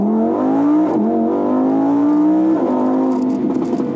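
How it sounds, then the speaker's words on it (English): A 2020 Lamborghini Huracan Evo, an all-wheel-drive car, accelerating hard in first gear with a loud, close engine wail climbing steadily in pitch, briefly dipping at a shift, then pulling on again. "because the car is all-wheel drive, you can floor it in first gear"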